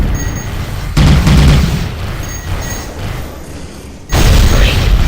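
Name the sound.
explosion in video game Tachyon: The Fringe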